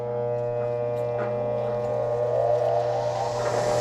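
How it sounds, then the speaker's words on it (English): A bench wire wheel spins up to clean a Proto 5449 half-inch ratchet, a steady motor hum with whining harmonics that slowly rise in pitch as it gets up to speed, continuous and fairly close. "So I'm gonna go to the wire wheel right now"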